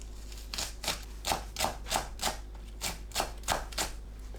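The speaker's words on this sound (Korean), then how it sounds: "파를 작게 썰어주세요." Knife chopping green onion into small pieces on a board, with a run of about a dozen quick, evenly spaced close taps over a low steady hum.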